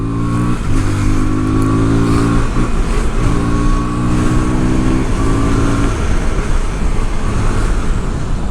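A KTM Duke 160 motorcycle accelerating hard, the engine climbing through several rising pitch sweeps with gear changes, loud and close over steady road and wind rush.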